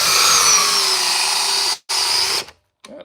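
A cordless drill drives an 8-inch timber lock screw into wood, a loud sustained whine with a short break, resuming, then stopping, followed by a faint brief spin.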